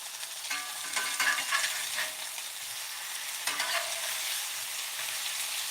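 Liver and onions fry in a cast iron skillet with a bright, steady sizzle, broken by a few scrapes from stirring. No one speaks.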